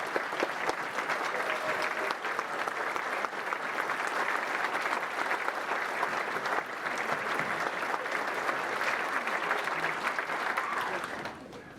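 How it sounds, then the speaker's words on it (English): Sustained applause from a standing crowd at a Bristol Sports Hall of Fame gathering, a steady dense wash of clapping that holds for about eleven seconds before tapering off at the end. "stand up and give a round of applause, like a standing ovation to the Bristol Sports Hall of Fame tonight"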